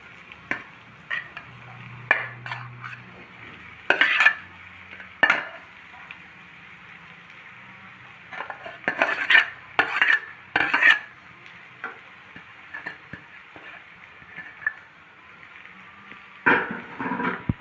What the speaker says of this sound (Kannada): ಈಗ ನಾವು ಇದರಲ್ಲಿ ಮ್ಯಾಶ್ ಮಾಡಿ ಇಟ್ಕೊಂಡಿದ್ದೀವಲ್ಲ ಆ ಆಲೂಗಡ್ಡೆನ ಇದರಲ್ಲಿ ಸೇರಿಸೋಣ